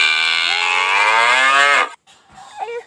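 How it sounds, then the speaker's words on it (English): A cow lets out one long, loud, drawn-out moo that cuts off sharply, followed by a brief pause and faint rustling. "Cow."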